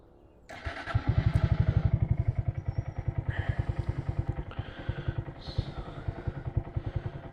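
A 2022 Honda Grom motorcycle is started up after a brief quiet moment. Its small engine catches and settles into a close, steady, rapidly pulsing idle with a few throttle blips.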